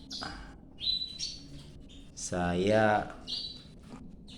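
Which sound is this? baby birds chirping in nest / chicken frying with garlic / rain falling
baby birds chirping in nest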